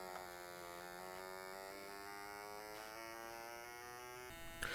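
A thin, steady electronic buzz stands in for an RC model plane engine at half throttle in a 1980s Dave Brown flight simulator game, holding a constant droning pitch that creeps slowly upward before cutting off abruptly near the end.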